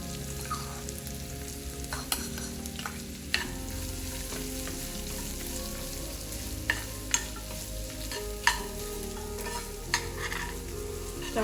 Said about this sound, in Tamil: ஒரு 3 நிமிஷம் மீடியம் ஃப்ளேமில் வச்சு நல்லா வதக்கிட்டேன்.